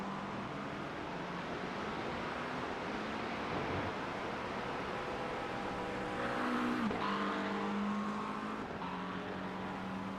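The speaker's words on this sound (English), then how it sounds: "I can hear Terrell ready to go. I can hear him revving it." A race car engine in a racing video game rises in pitch as it speeds up out of the pits at Watkins Glen, then a sharp shift and renewed climb, steady and fairly distant, no talk.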